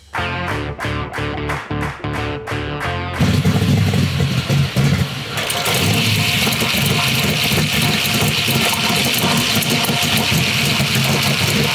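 A Ford 350 V8 runs on a workshop bench, first with rapid even bursts, then a loud continuous roar that stays close and steady with no talk.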